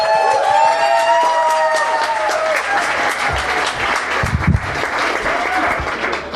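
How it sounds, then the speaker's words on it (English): A comedy club crowd applauds and cheers as the next stand-up comedian is welcomed to the stage, a loud sustained wash of clapping with whoops rising over it. "Another round of applause for our next comedian."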